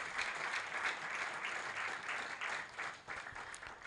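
A church congregation at a prophetic deliverance service applauds together, a sustained, fairly soft roll of many hands clapping with small surges in intensity, no voices standing out.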